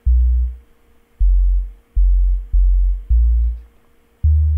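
Six loud, deep 808 bass notes thump in an uneven rhythm, each starting with a punchy attack and then holding a low, booming sustain before cutting off.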